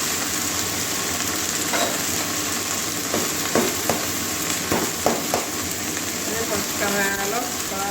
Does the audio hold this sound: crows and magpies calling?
no